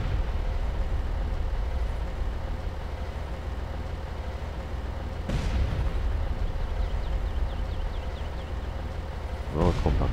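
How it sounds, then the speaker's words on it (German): Continuous rumbling battle noise in Far Cry with two heavier booming rocket launcher blasts, one midway and one near the end, over a dense background roar. "Gib mir schöne Explosionen."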